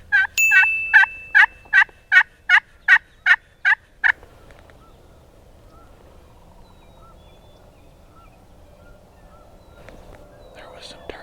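A wild turkey calls during a Wisconsin spring hunt, a loud, close series of about nine evenly spaced notes, followed by quiet woodland with faint whispering.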